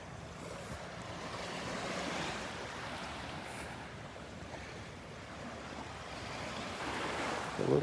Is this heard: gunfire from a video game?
no